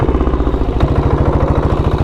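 A fully modified 1990s Royal Enfield Bullet 350 with an extremely loud aftermarket exhaust thumps close by in a fast, even pulsing beat, loud and alone without any talk.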